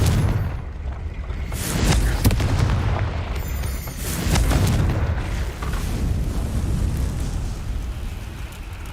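A Confringo fire spell blasts in Hogwarts Legacy, a loud, booming burst of crackling fire that lands near the start and is followed by continuous rumbling battle impacts and roaring flame noise across the whole span, with no voices.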